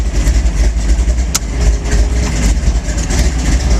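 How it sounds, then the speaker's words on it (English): A car engine runs steadily with a low, rumbling hum as the car backs up in reverse, loud and close, with a brief sharp click partway through and no talking. "So I push the button and the car backs up."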